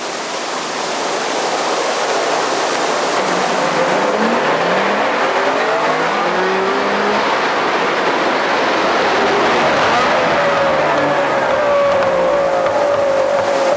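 An 1980s East German car, Wartburg or Trabant style, pulling away hard from a stop at traffic lights, its engine roaring loud and steady throughout with rising and falling pitch sweeps and no talk.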